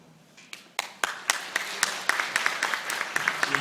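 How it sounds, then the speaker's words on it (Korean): An audience at a 2012 technical presentation on cross-development between Ubuntu and Windows claps after the talk ends, sparse separate claps at first that quickly build into steady moderate applause from a small room. "이분께 다시 한번 큰 박수 부탁드리겠습니다"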